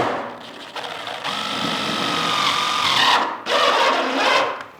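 A power screw gun drives a screw into metal roofing, a loud, steady whirring drone that builds and holds, then cuts out briefly near the end before a second short burst.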